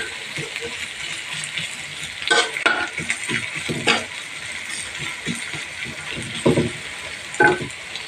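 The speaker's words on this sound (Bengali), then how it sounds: "এখন এই যে পেঁয়াজটা হালকা একটু নড়াচড়া করে নিলাম।" Onions stirred and fried in a pan, a steady hiss of frying with repeated scraping and clinking strokes of a spoon against the metal, close and fairly loud, no talk.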